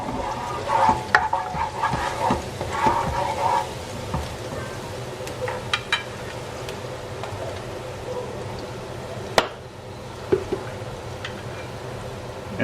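Garlic cooking in a pan for a home beef-with-broccoli meal gives a steady sizzle with scraping stir strokes and a few sharp clatters, moderately loud and close, with no talking.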